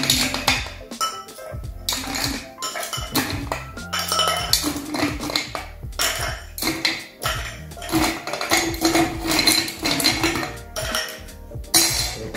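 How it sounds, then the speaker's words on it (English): Ice cubes clattering into a cocktail mixing glass, a long run of bright clinks and chinks in irregular bursts, close and fairly loud with no talk. "So I'm gonna fill our mixing glass with some ice cubes."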